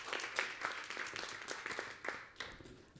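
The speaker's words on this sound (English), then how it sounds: "Big round of applause, everybody." Applause from an audience at an edtech pitching competition as a team is called to the stage, a loose run of claps, moderately distant and fairly soft.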